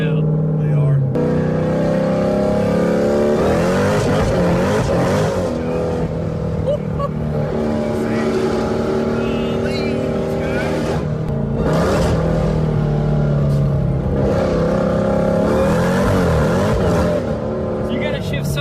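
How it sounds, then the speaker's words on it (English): A loud 1000 HP Jeep Trackhawk engine revs up and drops back through several quick downshifts, roaring and falling in pitch in repeated bursts, close by. "Those downshifts right there. They're way more aggressive now."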